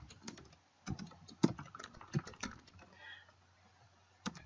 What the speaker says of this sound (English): I'm just going to type over the top here.